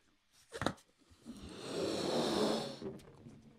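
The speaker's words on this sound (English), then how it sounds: "What if we blow up a balloon?" Someone blows air into a balloon, a close, breathy rush that swells and holds for about two seconds after a short intake, with no talking.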